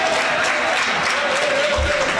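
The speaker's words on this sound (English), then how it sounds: "Clap for me now." Brief burst of audience clapping at a professional photographers' congress, loud and continuous across the whole moment with crowd murmur mixed in.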